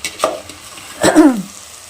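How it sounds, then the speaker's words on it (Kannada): Vegetable palya frying in a pan, two short close bursts of stirring with a brief sizzle, the second longer, then quiet. "ಇಲ್ಲಿ ಪಲ್ಯ ಮಾಡ್ತಾ ಇದ್ದೀನಿ. ಇದಾಗಿ ಚೆನ್ನಾಗಿ ಫ್ರೈ ಆಗಬೇಕು."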